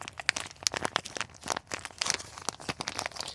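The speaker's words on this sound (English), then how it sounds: "Kind of makes a little bit of like a slurping sound, so there's definitely liquid in there." Soft crinkly rustling of a sealed pouch of JB Weld ExhaustWeld being handled up close, with faint wet sloshing shifts mixed into the crackle.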